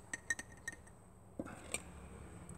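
A spoon clinks against a glass jar a few times while sugar goes into nettle syrup, with light, sharp taps early on, a soft thud, then one more clink, faint and close against a quiet background.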